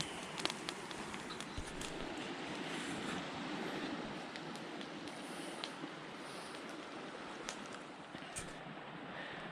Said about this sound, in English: enjoy the sound of the river.